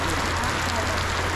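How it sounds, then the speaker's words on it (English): Light rain falls steadily in Georgia, a close, even hiss of small drops on surfaces with no break in the brief stretch. "Here is a small rain."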